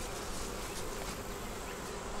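Honey bees flying in and out of a double-deep hive, a dense, continuous buzzing drone heard close and steady throughout, with no voices.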